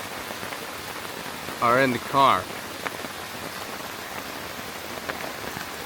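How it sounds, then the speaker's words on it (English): Steady rain patters on a taut tarp overhead at a campsite, a constant close hiss, with a brief burst of nearby speech partway through. "So I'm just gonna sit here and hang out, listen to the rain."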